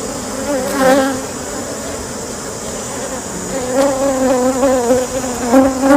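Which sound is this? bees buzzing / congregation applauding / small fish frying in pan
bees buzzing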